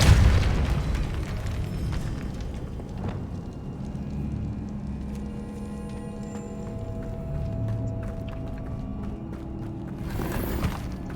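A Depulso spell strikes with a heavy boom at the start in Hogwarts Legacy, followed by lower rumbling ambience and another burst near the end.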